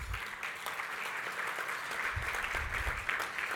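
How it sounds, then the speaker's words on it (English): An audience at an arts leadership breakfast meeting claps for sponsor InterDigital, a moderate, fairly distant round of applause that stays steady for a few seconds. "Please give them a round of applause."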